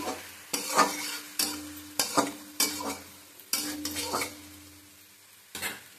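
Sliced banana stem fries in a pan and gets stirred in bursts, each spatula scrape against the metal followed by a fading sizzle, with quiet pauses between strokes, close and moderately loud.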